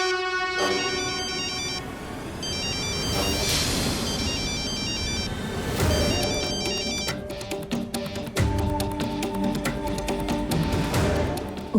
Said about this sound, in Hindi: उदय का फोन।